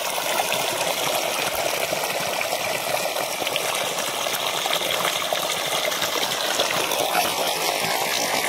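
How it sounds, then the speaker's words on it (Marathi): Water gushes steadily from a pump-fed pipe in a farm field on a summer morning, wetting the ground before onion planting; a continuous, loud, even rush with no pauses. "आपली मोटर चालू झाली"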